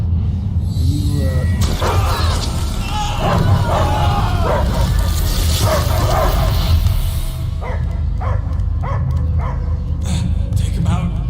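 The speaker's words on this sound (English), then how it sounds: "I hear only barking" In the Guardians of the Galaxy video game, a dog barks and yips repeatedly in loud, close bursts over a rumbling, crowded background din.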